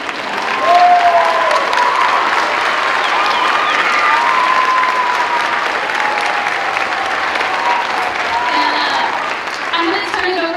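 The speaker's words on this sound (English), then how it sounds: "Yeah, you can clap now, sorry." Parents and students clap at an event at Chappelow K-8 Arts Magnet School. The loud, sustained applause of a large crowd carries a few scattered voices and whoops, tapering slightly near the end.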